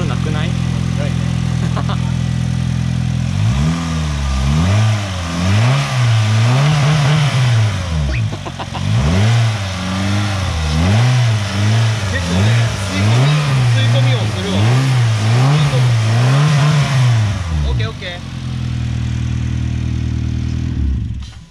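A small Honda engine without an electric starter idles, then revs repeatedly in rising and falling surges, loud and close, before settling back to a steady idle.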